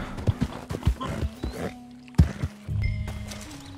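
A horse's hooves clip-clop in the Red Dead video game: a handful of uneven, fairly close hoof strikes, followed by a steadier low scuffing.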